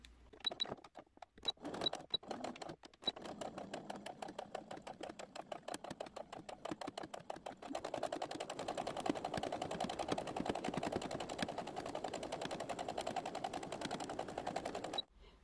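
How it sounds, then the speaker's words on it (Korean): A sewing machine stitches a rectangular section of a fabric 3D mask, its needle chattering in a rapid, steady mechanical rhythm. Short stop-start runs come at first, then one long continuous run of close, even stitching. "여기 직사각형 부분 한번 박음질 해줍니다."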